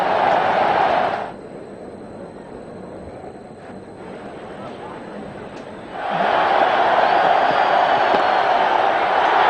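A cricket stadium crowd in Ahmedabad roars for a batsman reaching fifty in an India versus West Indies one-day match, loud cheering that drops to a murmur midway and then surges back strongly.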